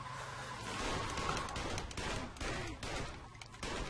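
Gunfire in Saints Row 2, a rapid, sustained volley of shots crackling across the whole stretch at moderate distance, with dense game ambience and no talk.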